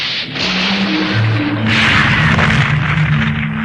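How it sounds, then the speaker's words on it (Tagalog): A loud, sustained boom effect of flowers exploding in an animated fight scene, a dense burst of rumbling noise that swells midway and holds with tonal ringing underneath, with no talk over it. "Bakit sumabog ang mga bulaklak?"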